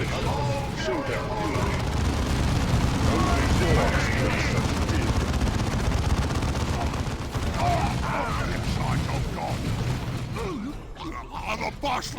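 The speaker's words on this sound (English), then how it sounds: "Weapons fire has us pinned." Weapons fire in a Dawn of War 2 battle, with dense, continuous volleys and bursts of gunfire rolling on for the whole stretch, mixed with combat noise and voices.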